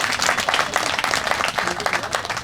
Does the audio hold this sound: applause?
yes